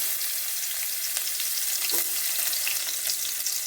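Chilies hitting hot oil already seasoned with cumin, two cloves, cinnamon, curry leaves and asafoetida for spiced rice, giving a steady close hiss and crackle of frying with no talk.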